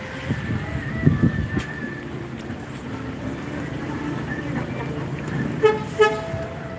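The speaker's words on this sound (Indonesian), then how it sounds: "Ambassador sudah mulai bergerak meninggalkan terminal" A PO NPM Sultan Class Ambassador bus leaving a terminal sounds its horn in a few short toots, with louder blasts near the end. Engine rumble and busy terminal noise sit underneath at moderate volume.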